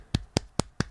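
Hands clap four times in a quick, evenly spaced rhythm during a live skateboarding talk show; the sharp, close claps ring out alone with no talk.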